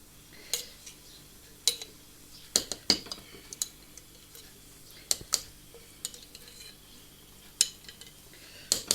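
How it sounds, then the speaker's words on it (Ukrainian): A utensil stirs zucchini salad with sardines and tomato sauce in a metal pot, repeated sharp clinks and scrapes against the sides in an irregular rhythm, close and fairly quiet. "Все добре перемішуємо і ставимо варити на 2 години"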